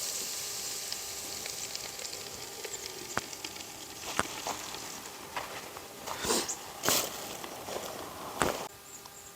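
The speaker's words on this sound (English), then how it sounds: "So we're gonna go ahead and get those in the fryer." Shrimp frying in a deep fryer for Southern-style fried seafood, a steady close sizzle of hot oil with sharp crackles and pops bursting through, alone with no talk.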